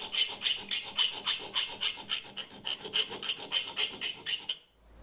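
A file rasps steadily across metal in repeated even strokes, close and loud, about two per second, during an LED fog light conversion on a Citroen 2CV, then stops abruptly at the end.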